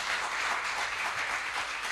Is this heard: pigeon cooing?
no